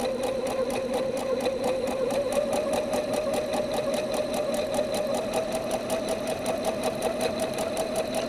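A sewing machine stitches a quilt seam, its needle hammering in a rapid, even mechanical rhythm that runs without a break, close and steady.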